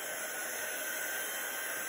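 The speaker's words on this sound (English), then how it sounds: "So now, using a heat gun." Heat gun blowing steadily for heat embossing on vellum, a loud continuous airy whoosh with a constant motor hum, with no pauses and no voices.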